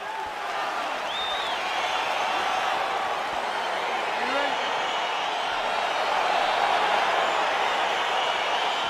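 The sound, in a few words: arena crowd cheering in the video game UFC on PS5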